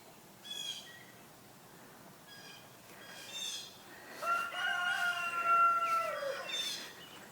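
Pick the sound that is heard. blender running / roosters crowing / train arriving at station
roosters crowing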